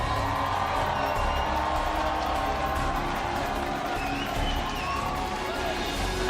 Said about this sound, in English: The fans are showing up and they are cheering on this squad.